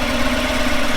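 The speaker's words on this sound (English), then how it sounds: "the stock sound for the motorcycle, that sewing machine sound that you get" A Harley-Davidson Fat Bob motorcycle with its stock exhaust idles steadily up close, a smooth, even, mechanical hum with a light ticking texture and no other sounds.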